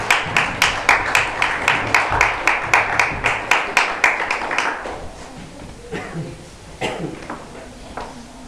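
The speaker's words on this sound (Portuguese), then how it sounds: "E as palmas louvam ao Senhor." A church congregation claps in steady, even unison during worship, roughly a dozen loud beats that then fade into a few scattered claps and quiet shuffling.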